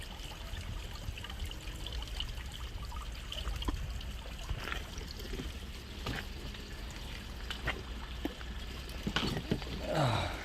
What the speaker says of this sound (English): And you've got a little water feature here.